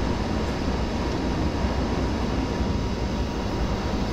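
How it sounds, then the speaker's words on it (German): An ICE T train passing by in Train Simulator 2020: a steady, broad rushing roar of rail noise holds at constant loudness throughout, with no voices. "Und der ICET kommt uns entgegen."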